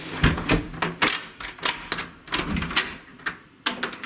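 A door swinging open and shut over newly laid carpet in a 1950s kitchen being refloored, giving a series of short scraping brushes and knocks at a steady irregular rhythm, close by with no talking.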